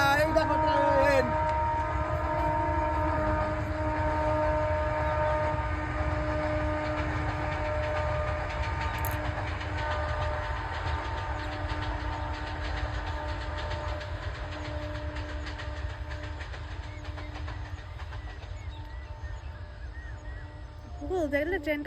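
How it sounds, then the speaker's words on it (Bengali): A train passes near a village on an early morning, a long, steady rumble and clatter with sustained horn-like tones that carry on for about twenty seconds, fading slightly toward the end, with faint voices at the edges. "এই দেখো ট্রেন"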